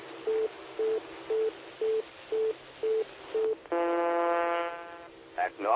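Seven short, evenly spaced DTMF beeps pulse out over a radio repeater link on a SKYWARN system, then a longer buzzy tone holds before fading, with brief radio bursts at the end.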